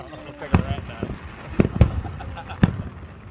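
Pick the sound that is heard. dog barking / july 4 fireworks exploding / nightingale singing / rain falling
july 4 fireworks exploding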